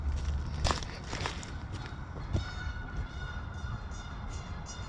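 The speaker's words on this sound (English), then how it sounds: "Bunch of geese all over the place." Faint, distant honking of geese over a steady outdoor hiss, with a few scuffing footsteps nearby.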